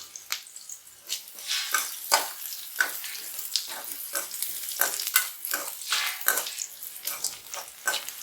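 Brinjal and curry leaves fry in a pan as a spatula stirs them. Repeated scraping strokes come at a loose, regular rhythm over a light crackling sizzle, close by and with no talking.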